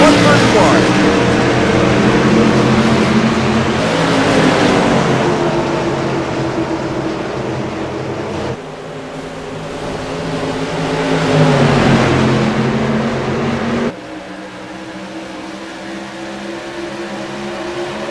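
Modified race cars roaring past at New Hampshire Speedway during a race restart, engines swelling and fading in waves of loud passing drones under continuous race commentary.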